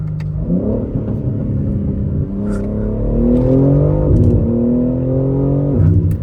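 A 2025 BMW G80 M3 LCI accelerates hard in two-wheel drive mode on cold tires, its engine note rising loud and close through the gears in a steady pull heard from inside the car.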